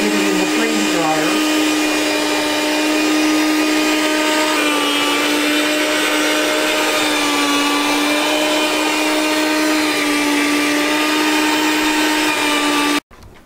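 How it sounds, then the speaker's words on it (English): A meat slicer cutting cabbage in a home kitchen, a loud steady motor whine that holds for about thirteen seconds before cutting off abruptly. "he's using our meat slicer"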